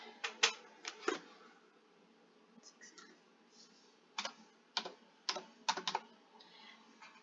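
Short bursts of keystrokes on a computer keyboard as a zip code is entered, faint clicks in small clusters with pauses between, quiet and close.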